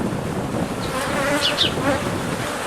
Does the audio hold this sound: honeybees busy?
yes